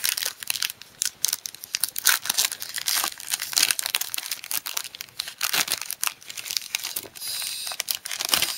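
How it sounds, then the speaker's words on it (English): The foil wrapper of a 2015 Avengers Attax trading card pack is torn open and crinkled up close, with bursts of sharp crackling and ripping that come in irregular spurts. "So let's open the pack."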